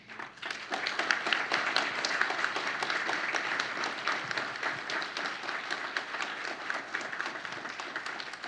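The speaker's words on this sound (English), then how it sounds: "I'd like to just do one more round of applause for all of the nominees, finalists, and award winners" A sustained round of audience applause at a community and business champion awards event, dense and even for several seconds with no voices over it.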